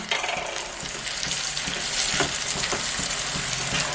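Chopped ripe tomato sizzling in a hot frying pan for a chicken dish, a loud continuous crackle and hiss up close with occasional stirring clatter and no talk.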